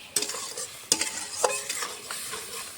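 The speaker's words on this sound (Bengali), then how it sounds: "মশলাটা এখন ভালো করে কষিয়ে নেব।" Ground spices, including turmeric, fry in a pan with a soft sizzle while a utensil stirs them in several distinct scraping strokes, close by with no talk.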